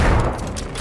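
A rapid burst of explosive rounds fired in the video game Generation Zero, heavy gunfire with booming blasts, dense and loud, fading slightly toward the end.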